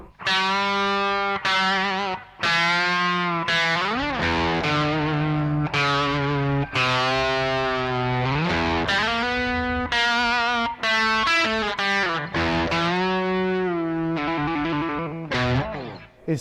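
Distorted electric guitar playing a riff that slides downward in chromatic steps, thick and overdriven, with sustained notes and short breaks between phrases.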